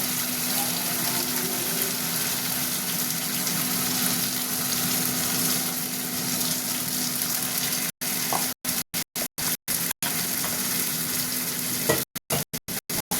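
Dried red chillies and spices frying in a pan for a Bengali dhokla dalna, a steady close sizzle and crackle that runs unbroken, then drops out in several short, abrupt gaps near the end.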